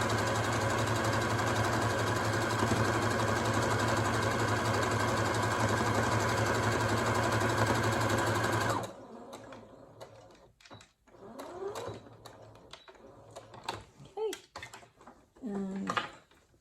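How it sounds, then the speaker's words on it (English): A domestic sewing machine stitches fabric for an advent calendar, a steady loud mechanical whir for about nine seconds that then stops abruptly, followed by quieter handling clicks and rustles. "Just back stitch again before the area starts, and then just sew again over that"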